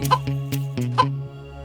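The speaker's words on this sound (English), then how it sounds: "That very moment, the hen laid a golden egg" A hen clucks for a story sound effect, several short, close clucks in an uneven rhythm over a faint steady background hum.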